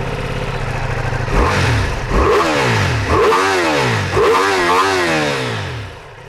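Ducati Multistrada V4 S motorcycle with an Akrapovic exhaust, its V4 engine blipped through several loud, sharp revs that rise and fall back toward idle, close up with no one speaking.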